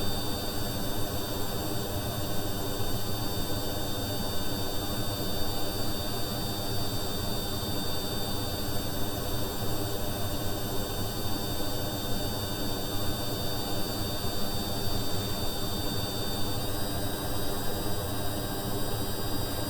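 Jet engines of a plane in Kerbal Space Program, a steady loud whine and broadband roar droning on without change for the whole stretch, no talk.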